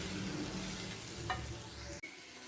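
Turmeric powder stirred into a beef curry base in a hot pan, a soft continuous sizzle with a brief scrape of the spoon, ending abruptly.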